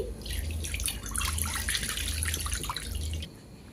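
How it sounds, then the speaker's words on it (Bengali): Water poured from a container into a wok on the stove for steaming cauliflower, a steady splashing stream for about three seconds, close and fairly quiet, with no talking. "কড়াইয়ের মধ্যে পরিমাণ মতো জল দিয়ে দিচ্ছি।"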